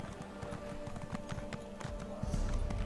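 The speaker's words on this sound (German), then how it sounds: "Rosinante, unser Pferd, das trägt uns wie eine Wolke" Horse hooves clip-clopping at a run in The Elder Scrolls Online, a rapid rhythmic patter of hoofbeats close by and steady, with faint game ambience underneath.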